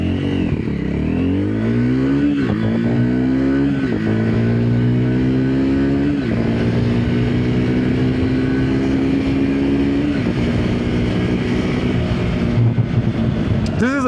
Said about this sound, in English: This is a very fast bike to a point where it requires you to hold on when you are accelerating.